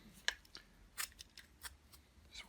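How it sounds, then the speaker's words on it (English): A sharp knife slicing through hair and threads tangled on the brush bar of a Vax Air Steerable Ultra Lite Reach vacuum cleaner, heard as several short, crisp cutting strokes spaced irregularly, close up and quiet. "So next in the arsenal is a nice sharp knife. Let's get that in on a diagonal. That's getting it through."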